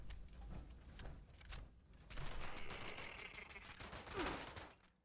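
Bursts of gunfire ring out from a weapon in the video game Fallout 76, rapid sharp shots in clusters, then a denser volley with a rising whine near the end, moderately loud without speech.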